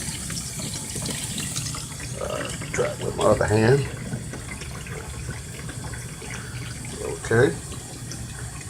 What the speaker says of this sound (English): Now let me turn me on a little water.